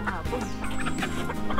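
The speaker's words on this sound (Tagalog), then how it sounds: "Ibinaba ang mga manok." Several free-range chickens cluck and squawk at close range as they are unloaded from a vehicle, busy overlapping calls filling the short moment.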